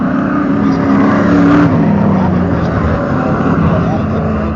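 Road race cars including a Ferrari, a yellow Mustang and a white Camaro roar past in a club race at Waterford Hills, engines droning loudly and continuously with an announcer talking over them.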